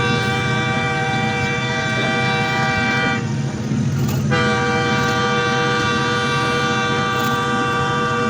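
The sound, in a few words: passenger train running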